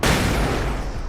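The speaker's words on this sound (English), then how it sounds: "Flashbang." A flashbang grenade goes off in the video game Alan Wake's American Nightmare, one sudden loud burst at the very start that fades into a rumbling decay over about a second.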